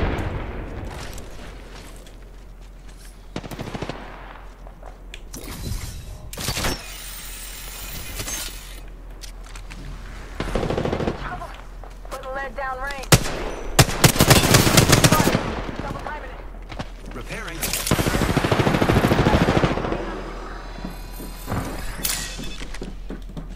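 Automatic gunfire and impacts in the video game Apex Legends come in loud bursts with booms and explosions, alongside in-game character voice lines and player talk.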